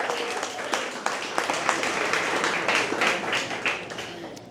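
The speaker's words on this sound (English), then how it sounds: "So big round of applause." Audience applause at an official beer launch event at a brewery for a 250th anniversary celebration, steady clapping from a crowd lasting several seconds with sharp individual claps standing out.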